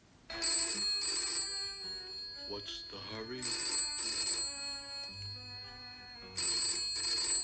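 An old-style telephone bell rings in repeated double bursts, loud and close, with a brief spoken line in the gap between rings.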